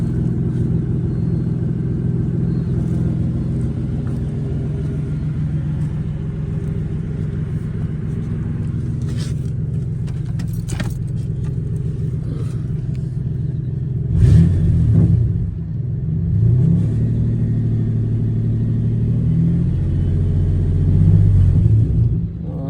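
A car engine idles steadily after a new battery is installed, a low continuous rumble with a couple of brief revs near the end and a few faint clicks.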